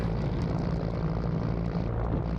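A helicopter near a cargo ship deck, a steady droning rotor and engine roar with a low throbbing hum, continuous and fairly loud throughout, with no speech.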